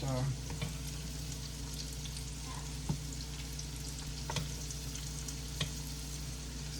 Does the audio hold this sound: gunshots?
no